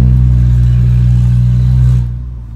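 A VW Jetta TSI 2.0 with its exhaust cutout open holds a loud, steady high-rev roar close by, then drops sharply as the throttle is released near the end, with no talk.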